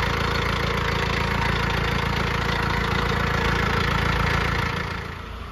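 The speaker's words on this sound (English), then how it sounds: "So this is the whole setup of the Pittsburgh air compressor." A Pittsburgh 12V 150 PSI portable air compressor, set up to inflate tractor tires, runs with a constant, loud buzzing motor drone close by, with no talk, then tapers off near the end.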